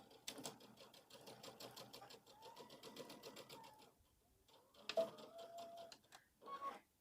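A sewing machine stitches fabric for a spooky door hanger in rapid rhythmic bursts of ticking needle strokes, pausing briefly midway before starting again.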